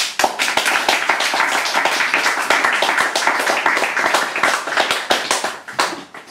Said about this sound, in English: give her more applause